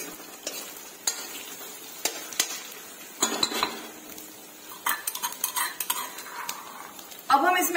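Diced potatoes and green chillies are stirred and fried in a pan for savoury rice, with a soft sizzle under irregular scrapes and clinks of a spoon against the pan, including a louder burst near the end.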